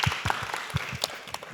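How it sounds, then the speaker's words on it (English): Scattered applause from an audience at an economics talk, a few distinct nearby claps standing out over thin, quieter clapping for a brief moment. "Can we applause for Stacy, please?"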